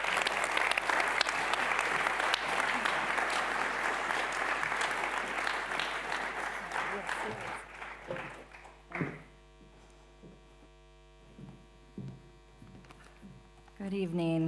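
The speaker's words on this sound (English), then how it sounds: "Please give her some love and a heartfelt applause." A crowd at a Hague Talks event on just peace applauds a speaker, loud sustained clapping over a mains hum that thins out and fades to a few scattered claps, then talk begins.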